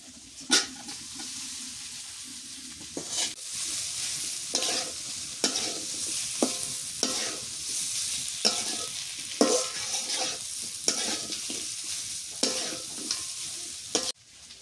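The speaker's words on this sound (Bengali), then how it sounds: "আমি নাড়াচাড়া করি" Prawns and potatoes in a curry are stirred in a sizzling pan, a spoon scraping in repeated strokes every second or so over a steady close frying hiss, with no voices.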